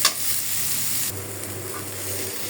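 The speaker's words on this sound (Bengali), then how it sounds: "এখন আমি হালকা করে পেঁয়াজগুলো একটু ভেজে ফেলি।" Onions fry lightly in a pan with a steady, close sizzle that briefly shifts in tone partway through as they are stirred.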